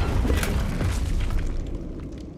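A booming fiery blast from the Confringo spell in Hogwarts Legacy, a loud close explosion with crackling debris that fades out over a couple of seconds.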